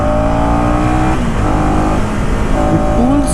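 A 2024 KTM Duke 250 with a bidirectional quickshifter pulls hard under steady, loud engine drone, its pitch stepping through gear changes against rushing wind, as if heard from the rider's seat.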